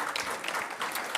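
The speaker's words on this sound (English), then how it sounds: "if you see Brian, give him a good round of applause." A short burst of audience applause at a symposium on Roosevelt and the Rough Riders, a brisk, even patter of many hands clapping.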